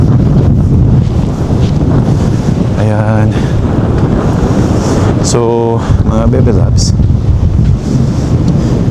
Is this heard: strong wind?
yes